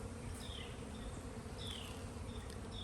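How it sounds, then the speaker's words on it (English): Honey bees working on comb foundation in an open hive, a steady dense buzzing hum with individual bees passing close, continuous and alone without speech. "And there's quite a few bees, and guess what? Right there. They are actually drawing out that comb."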